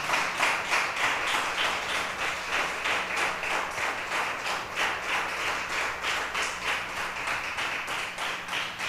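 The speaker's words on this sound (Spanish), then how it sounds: "Dame un aplauso al Espíritu Santo en esta mañana." A church congregation claps in a steady, rhythmic beat, a dense, even applause that carries on throughout.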